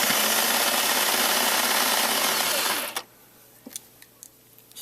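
A sewing machine stitches a ribbed neckband onto a poncho, its rapid motor whir and needle chatter running loud and steady for about three seconds before stopping, followed by a few faint fabric handling clicks.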